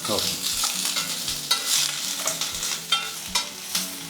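Onions fry in a pan for onion chutney, a steady soft sizzle broken by repeated scraping stirs and spoon taps, close and moderately quiet with no talking.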